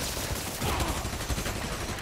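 Dense bursts of gunfire in the Spider-Man: Miles Morales video game, a continuous fusillade of overlapping shots that runs loud and steady through the short stretch with no pauses.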